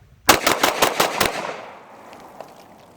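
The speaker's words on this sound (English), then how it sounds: "Sig P226" A Sig P226 pistol fires six rapid, loud, sharp shots close by at an outdoor range, followed by a fading echo and a faint click.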